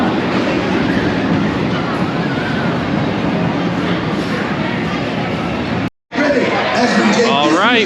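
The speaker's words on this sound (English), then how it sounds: "Oh, there's your second train right here." Roller coaster train rolling on its track at Six Flags Great America, a loud continuous rumble amid a crowd's chatter, with a brief cutout near the end before noise and voices return.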